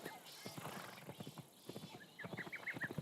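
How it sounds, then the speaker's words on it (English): Horse in Assassin's Creed Shadows: a steady clip-clop of hooves trotting and galloping, with a brief whinny near the end, moderately close and clear. "Horse."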